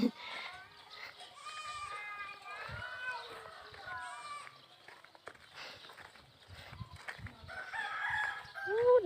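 Chickens cluck and a rooster crows repeatedly in the morning, loud and nearby, while people talk over and between the calls.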